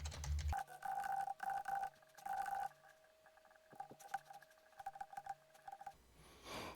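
Passwords are typed on a computer keyboard in quick bursts of light clicking keystrokes, close and fairly quiet, with short pauses between runs and a steady tonal hum in the background.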